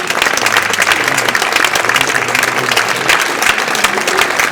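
Crowd at a tennis tournament prize-giving applauding a girls' finalist, sustained loud dense clapping throughout with faint voices mixed in.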